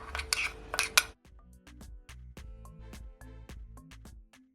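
Seasoned minced beef being mixed in a bowl for taco filling, starting with a few sharp clinks of a utensil against the dish followed by soft, intermittent scraping and stirring sounds, close and quiet.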